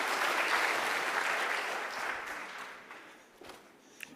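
A conference audience claps for a speaker at the end of a session on vitamins and minerals, dense applause that starts full and gradually fades, thinning to scattered claps by the close.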